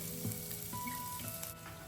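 Onion fries in coconut oil for a shakshuka with a quiet, steady sizzle and a few light crackles. The sound is faint and close, with no voice over it.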